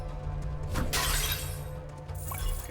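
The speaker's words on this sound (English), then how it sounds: "Smashing pots, I'm stealing." Clay pots smashing in the action RPG Children of Morta, a single loud shattering crash with breaking debris over steady game music and ambience.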